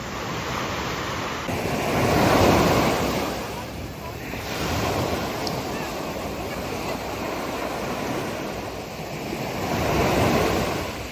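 Sea waves wash steadily onto the shore of Crete on an evening walk, with surges rising and falling over continuous wind noise.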